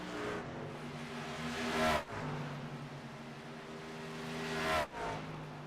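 Race trucks in a sim racing game drive past one after another, each rising to a loud engine roar before cutting off sharply, over a steady background engine drone.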